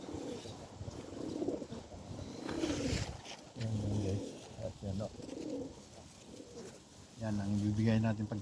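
Pigeons coo in low, throaty bursts, several in a row, with a person's voice talking quietly amid the birds.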